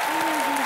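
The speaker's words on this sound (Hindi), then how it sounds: "जोरदार तालियां एक बार" Brief burst of dense television studio audience applause on a comedy show, steady and loud throughout.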